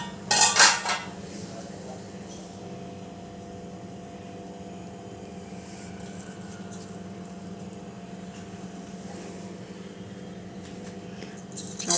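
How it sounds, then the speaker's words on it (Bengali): A nonstick kadai is set down on a stove with a short metallic clatter at the start, followed by a quiet, steady hum of the kitchen. "একটা কড়াই চাপিয়ে দিলাম।"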